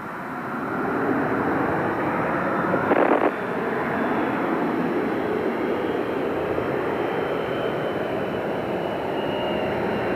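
Space Shuttle Endeavour rolling out after landing at Kennedy Space Center, a steady, loud broadband roar with wind-like rumble that holds for the whole stretch, with a brief bump partway through.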